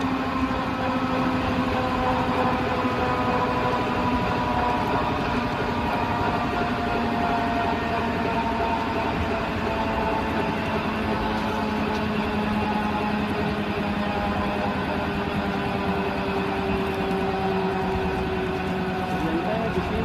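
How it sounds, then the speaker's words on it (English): A 2000 kg flywheel driving a 42 kW alternator spins down after its power is cut, giving a steady mechanical hum with slowly falling tones that runs throughout under a voice speaking. "you will actually see that the wheel will start rotating at a smaller pace"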